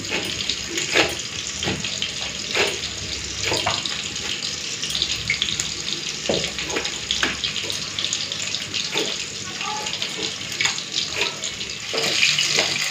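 Tap water runs steadily and splashes close by while cut pumpkin, beans and eggplant are rinsed and handled in a kitchen sink, with occasional clinks. No talking.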